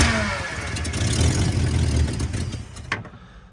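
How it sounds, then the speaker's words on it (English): V8 drag car engine catching on carbureted fuel and running, a loud close rumbling idle with uneven revving that cuts off abruptly near the end. "Sounds like it's firing on all 8."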